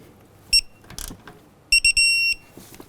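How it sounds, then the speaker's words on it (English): Torque wrench clicking as the upper shock bolt on a 2004–2009 Dodge Durango reaches 75 foot-pounds, with a couple of sharp ratchet clicks followed by a clustered series of bright metallic clicks, close and loud. "I'm going to go ahead and torque our upper bolt to 75 foot-pounds."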